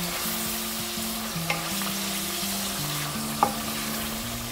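Hilsa fish sizzling steadily in a spice paste while being stirred, with a continuous close frying hiss and a couple of small utensil knocks.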